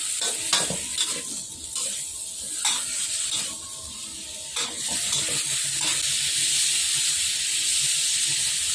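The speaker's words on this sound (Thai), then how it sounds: "จากนั้นนำกุ้งลงไปผัด รอให้กุ้งสุกครับ" Shrimp stir-fried in a hot pan for Thai basil stir-fry, with steady close sizzling and hissing broken by sharp scrapes and clanks of a spatula stirring, no talk.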